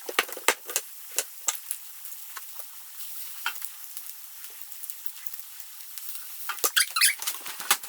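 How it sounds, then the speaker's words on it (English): Onion sautéing in a pan as a couple of garlic cloves go in: a steady soft sizzle with scattered spatula scrapes and taps, growing busier toward the end, with no talking. "since we have the onion sauteing, we're going to get a couple of cloves of garlic added to that"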